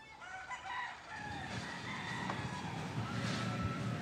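Gamecocks imported from America, nearly 400 held in a compound, crow and cluck in overlapping calls, several birds at once amid a hiss of background noise.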